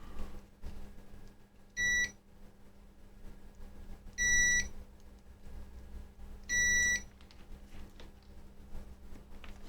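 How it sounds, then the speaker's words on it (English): A multimeter in continuity mode sounds three steady electronic beeps, each about half a second long and spaced roughly two seconds apart, during a low-resistance check of a shorted circuit, with faint background hum between them. "Beep, please."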